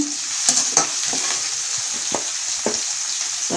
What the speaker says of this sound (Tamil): கடுகு உளுத்தம்பருப்பு தாளித்து வெங்காயம் வதக்கியிருக்கேன்